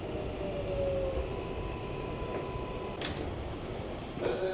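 A New York City 7 subway train rumbles steadily at a station, with a low continuous roar, a faint tonal whine, and sharp metallic clanks and hisses of door or car movement near the three- and four-second marks.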